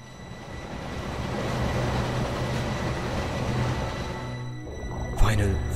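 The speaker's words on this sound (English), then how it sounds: "The speed train moves through the deep chasms under the illuminated sky." A speed train in Final Fantasy XIII rushes along with a continuous, loud rumbling roar that holds steady before briefly shifting in tone near the end.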